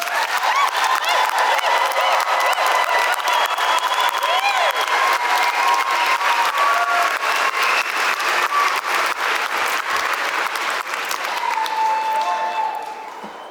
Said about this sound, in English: let's take a moment to give a big round of applause for our graduates